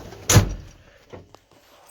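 Cab door of an Ashok Leyland dumper truck slamming shut once, a loud close thud with a sharp metallic edge, followed by faint rattles in rain.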